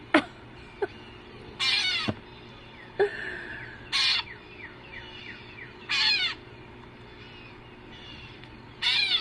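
Gray catbirds give short, mewing, kitten-like calls, about six scattered bursts separated by quiet gaps, with fainter chirps in between against an outdoor backyard background.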